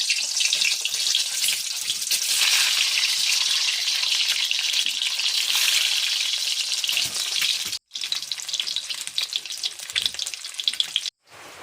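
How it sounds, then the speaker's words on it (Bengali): Eggs fry in a hot pan during the making of a village-style lentil dish, a loud continuous sizzle filling the whole stretch with two brief cuts and no voices. "এখন ভাজি নেবো আমি ডিম"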